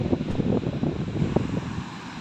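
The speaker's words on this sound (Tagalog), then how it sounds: "malakas ang alon. Lakas ng alon." Strong waves rolling in near a bridge, a continuous rough wash of surf with irregular surging bursts, heavy wind buffeting the microphone, no speech.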